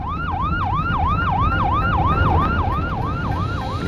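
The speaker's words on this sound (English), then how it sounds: "When he heard the siren" A sheriff's patrol car siren near Talladega wails in a fast, repeating yelp of rising and falling sweeps, loud and steady over faint road rumble, with no voices.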